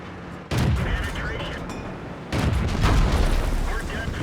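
Tank cannon fire and battle explosions in World of Tanks on the Prokhorovka map, with heavy booming bursts at about half a second and again near 2.3 seconds, loud and dense. A voice talks over the gunfire.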